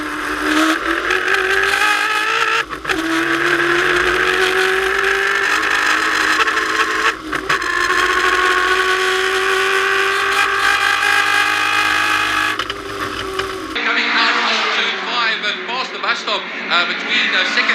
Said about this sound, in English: also gets difficult for some of the fine cars or the slower classic cars when the likes of the Denardios and the Hitchcocks come flying through